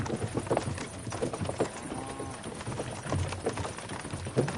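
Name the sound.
horses pulling a cart in Kingdom Come Deliverance 2 video game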